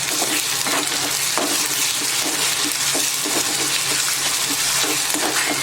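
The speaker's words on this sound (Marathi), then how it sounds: "आता हे बघा कांदा आलं लसूण पेस्ट मी चांगली भाजून घेतली आहे तेलामध्ये" Onion with ginger garlic paste and curry leaves fries in hot oil, giving a loud, dense sizzle that holds steady throughout, with soft scrapes of stirring now and then.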